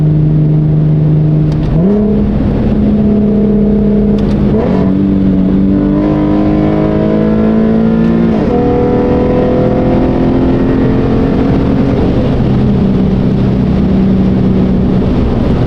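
A Corvette C8 engine pulls hard and steadily through the gears, rising pitch in each gear followed by quick drops at the shifts, loud and continuous with no talk over it.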